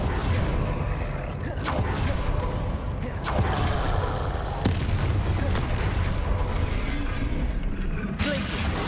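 Spell blasts and combat in the game Hogwarts Legacy, with repeated booming explosions and sharp cracks over a constant rumbling battle din.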